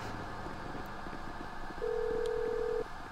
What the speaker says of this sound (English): I think my phone's ringing